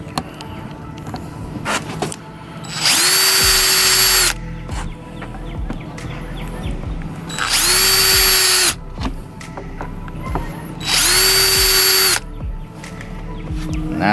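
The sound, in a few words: drill drilling the outside of a reptile tank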